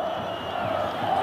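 A football stadium crowd at a 1992 São Paulo versus Corinthians match roars and cheers steadily in the distance as a broad, sustained wash of voices, no talk.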